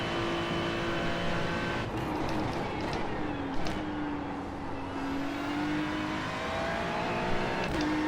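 Race car engine in the iRacing sim game, a steady droning whine with pitch shifting as it revs and eases, running continuously at moderate level throughout.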